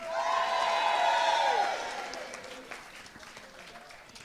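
A wedding audience bursts into loud applause mixed with cheering, strongest at first and then gradually thinning out.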